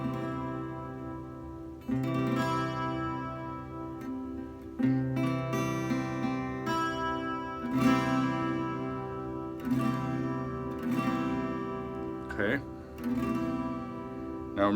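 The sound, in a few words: 12-string guitar chord strummed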